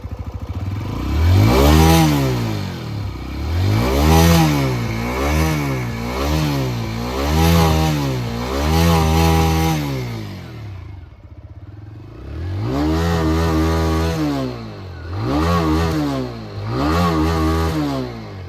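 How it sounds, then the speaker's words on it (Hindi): A 2024 TVS Raider 125cc motorcycle engine revs repeatedly, rising and falling in pitch with each throttle blip, then pauses briefly before several more loud revs. "थोड़ा सा इसके थ्रॉटल को बढ़ाते हैं।"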